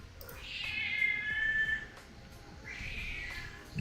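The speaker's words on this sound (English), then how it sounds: "Sorry if you can hear my cat. He's wanting some attention." A pet cat meows indoors for attention, two drawn-out plaintive calls, the first longer and louder, separated by a short pause against a quiet room background.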